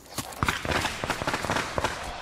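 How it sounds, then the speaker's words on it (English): Firecrackers exploding in a sharp irregular volley of crackling pops, close and fairly loud, in a children's story retelling of Mulan's homecoming to her village. "Shouts Shang over the noise of the firecrackers"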